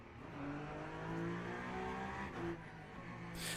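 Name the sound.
Peugeot race car engine in Le Mans Ultimate video game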